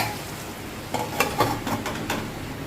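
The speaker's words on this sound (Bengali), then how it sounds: "এটাকে আমি মিনিট পাঁচের মতো ঢাকা দিয়ে দেবো লো ফ্লেমে গ্যাসটাকে রেখে যাতে এগুলো ভালোভাবে বয়েল হয়ে যায়" Vegetables sizzle softly in a covered pan on a low gas flame, with a steady quiet hiss broken by a few brief clatters of a utensil or lid.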